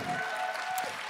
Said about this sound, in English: we also just have to give a big warm round of applause to our lovely drummer, Arthur Delahook here.